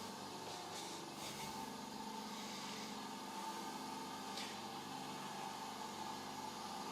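A VEVOR silent air compressor runs with a steady, low, even hum that holds a constant level throughout, with no voices over it.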